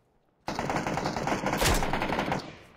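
Rapid automatic gunfire in the battle-royale game PUBG, a dense loud burst of shots lasting about two seconds and fading out at the end, with no talk.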